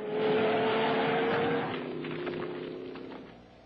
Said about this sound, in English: The scientist then finds himself experiencing the thoughts of a wild truck ride.